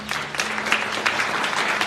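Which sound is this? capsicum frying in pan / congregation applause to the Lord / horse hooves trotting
congregation applause to the Lord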